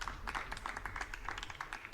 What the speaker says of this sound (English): cheering from the crowd for that